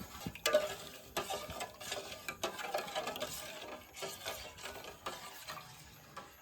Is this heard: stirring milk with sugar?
yes